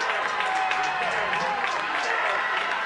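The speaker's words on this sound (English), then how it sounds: "the crowd gives her a big roar." Crowd roaring and cheering for a girls' 400 meter runner at a high school track meet, a steady dense wash of voices and applause holding loud and unbroken throughout.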